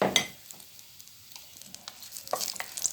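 Onions with cinnamon and bay leaf sizzle in oil and fat in a pot, soft crackling and spitting bursts with occasional stirring, fairly faint and close, with no talk.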